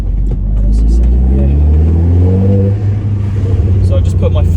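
Stage 3 Audi S3 tuned to about 460 bhp with methanol injection accelerating in second gear, a loud steady engine drone rising in pitch, heard from inside the car under someone talking.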